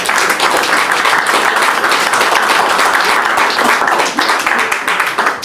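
Loud, dense audience applause at a press cocktail event at the Haitian embassy, sustained and close throughout with faint voices mixed in.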